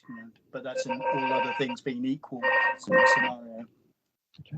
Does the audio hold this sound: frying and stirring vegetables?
no